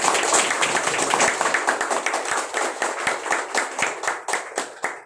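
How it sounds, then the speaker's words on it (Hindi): Audience at a training session clapping loudly, a dense burst of many hands that gradually thins into separate, more spaced-out claps as it dies away. "आप अपने लिए जोरदार ताली बजाइए।"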